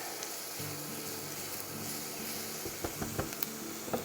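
Minced garlic and onions sizzle in a pan for a Cuban dish, a steady broadband frying hiss with a low hum beneath and a few sharp pops and clicks toward the end.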